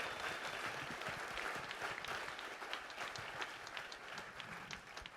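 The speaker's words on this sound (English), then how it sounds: "could you give Ray Eubanks a round of applause" Steady crowd applause honours Ray Eubanks at a Columbus Jazz Orchestra concert, many hands clapping in a dense, even wash that holds for several seconds at moderate distance.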